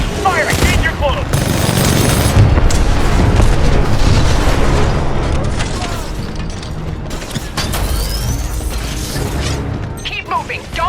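Titan weapons fire and explosions in the video game Titanfall 2, a dense, loud barrage of rapid mechanical shots and booms running throughout, with a brief burst of speech.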